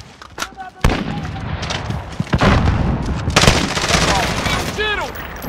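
Bursts of gunfire crackle through a round of a team-based video game shooter, dense rapid shots and sharp cracks layered over a busy battle din, with in-game voices calling out over the shooting.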